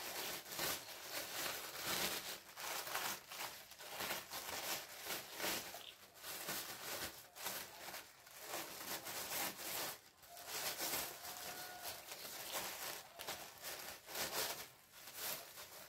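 Thin plastic cover being spread open and folded by hand for a craft taro leaf, a continuous close crinkling and rustling that runs steadily throughout with no talk.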